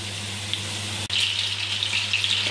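Cutlets frying without breading in a pan, a steady bright crackling sizzle under a low hum, briefly interrupted by a sharp click before the sizzling picks up again and continues.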